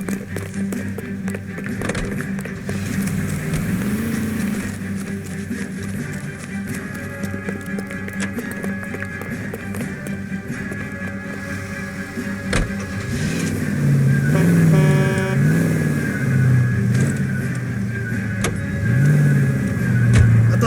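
A car driven in the video game L.A. Noire, its mid-pitched engine humming steadily and rising as it accelerates, with revving swells toward the end and game background sounds layered over it.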